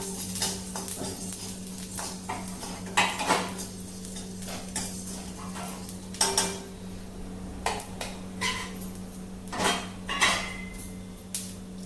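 Coriander seeds, black pepper, cumin and lump asafoetida dry-roasting in a pan for rasam, with repeated clinks and scrapes of a spoon against the metal over a low steady hum, close by.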